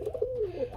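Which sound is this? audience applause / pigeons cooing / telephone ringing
pigeons cooing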